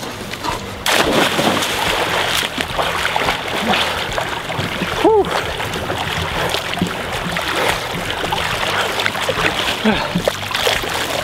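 A person enters the water for a swim test at a synchronised-swimming tryout, with continuous splashing and sloshing of water close by, loud and steady throughout, and voices talking faintly underneath.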